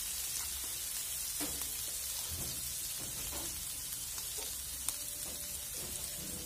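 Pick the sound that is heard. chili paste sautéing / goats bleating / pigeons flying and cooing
chili paste sautéing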